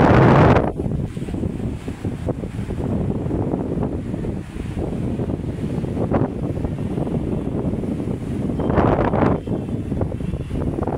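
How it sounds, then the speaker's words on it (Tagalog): Strong wind sweeping across Manila Bay, a loud continuous roar buffeting the microphone with gusty surges near the start and toward the end, over a faint wash of water. "Ang lakas ng hangin, guys."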